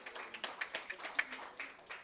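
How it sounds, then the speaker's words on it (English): Light applause from a small audience at a city council meeting, a handful of people clapping in quick uneven bursts for about two seconds, fairly faint and distant. "Another round of applause."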